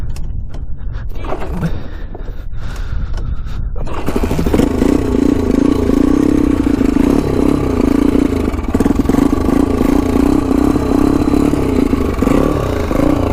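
A 1988 Honda 250X quad's engine with a leaking exhaust header runs loud and steady at close range; after a rougher first few seconds it settles into a continuous throbbing idle.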